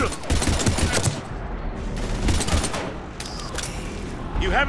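Rapid automatic gunfire during a Mass Effect 3 firefight, dense bursts of shots rattling close and loud over battle noise, continuing throughout with brief lulls between volleys.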